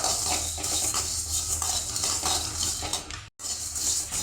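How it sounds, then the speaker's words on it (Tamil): Coriander seeds are dry-roasted in a pan and stirred with a spoon, giving continuous scraping and rattling of seeds against metal with a brief pause near the end, close and alone without talk. "கொத்தமல்லி நம்ம நல்லா வறுத்து எடுத்துட்டேங்க"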